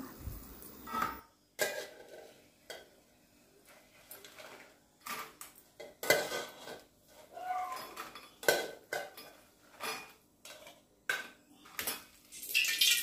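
Fried dry red chillies are tipped from a pan into another bowl in a home kitchen, producing a series of sharp clinks and scrapes of metal utensils and dishes, irregular and fairly close, with no talking.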